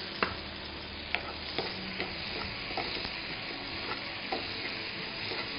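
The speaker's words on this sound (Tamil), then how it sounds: "அதே மாதிரி 1/2 கப் தக்காளி ஆட் பண்ணிக்கலாம்." Chopped tomatoes and onions sauté in a pan for a prawn dosa filling, a steady sizzle broken by periodic scraping clicks of a spoon stirring, with no talking.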